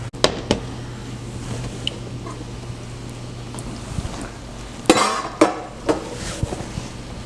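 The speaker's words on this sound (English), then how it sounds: "Alright, time to pull the stew out of the oven finally" A pot of beef stew is lifted out of an oven with a few sharp metallic clanks and knocks of cookware, a faint steady hum underneath.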